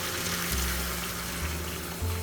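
Hot water pours into a pot of bone-in chicken curry cooking with spinach, making a steady, close gushing splash that continues unbroken with low bubbling underneath.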